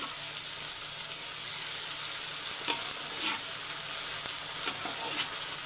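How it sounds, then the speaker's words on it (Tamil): Gravy is poured into chicken masala thokku and stirred in a pan, giving a steady sizzling frying hiss with occasional scraping stir strokes, moderately close and with no talking. "இதிலேருந்தே கொஞ்சம் கிரேவி எடுத்து இந்த தொக்கில் ஊற்றிக்க போகிறேன்"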